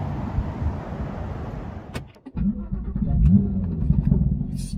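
A 2018 Porsche 911 GT3 with a 991.2 flat-six engine fires up close by. Steady engine noise is followed by a brief dip, then a quick crank and catch into a strong idle, with no talking.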